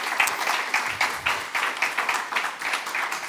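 A conference audience applauding the mayor, a burst of many hands clapping in quick irregular rhythm, moderately loud and sustained throughout with no clear speech over it.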